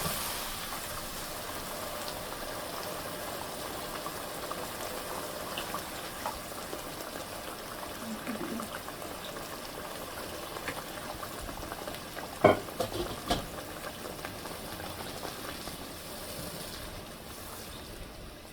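Catfish tomato curry masala simmers after hot water is poured in, a soft continuous bubbling and sizzle in a pan, with a couple of brief clinks of a utensil near the end.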